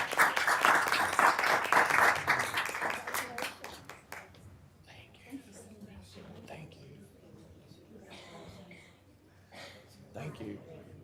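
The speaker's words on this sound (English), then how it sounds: "So let's give all of our volunteers, the ones here now, a round of applause." An audience at a board of education meeting giving volunteers a round of applause: a loud, dense burst of clapping for about four seconds, fading into scattered claps and quiet murmuring voices.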